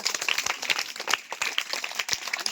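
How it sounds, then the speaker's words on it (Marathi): Loud clapping from a group of children praised for acting in a classroom game, dense, fast and continuous throughout with scattered sharp claps standing out. "ज्यांनी ज्यांनी ऍक्टिंग केली त्यांच्यासाठी जोरदार टाळ्या होऊ द्या"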